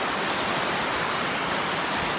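Water from a flooded path pours over a drop, producing a loud, continuous, full-bodied rush that never lets up, heard on its own without voices.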